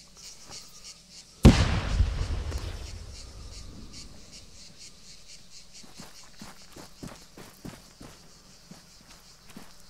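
A grenade in the Arma 3 military game bursts with one loud, sharp blast whose rumble slowly fades, followed later by a run of quick, irregular footsteps nearby.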